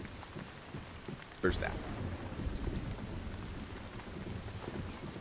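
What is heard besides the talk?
rain and thunder in the video game Once Human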